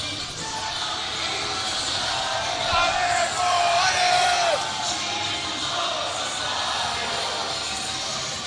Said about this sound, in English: The crowd trying to will him to hit this.